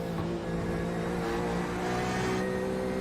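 Porsche GT3 race cars in a racing video game, a steady engine drone holding a sustained tone with no talk over it.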